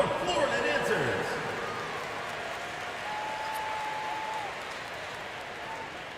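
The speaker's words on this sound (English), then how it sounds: "Let's give them a round of applause" Arena crowd applause at a Florida Gators versus Texas Longhorns college basketball game, a broad steady wash of clapping and crowd noise under a commentator's talk, with a faint whistle-like tone in the middle.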